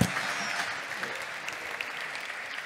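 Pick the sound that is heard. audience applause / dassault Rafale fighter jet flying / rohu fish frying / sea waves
audience applause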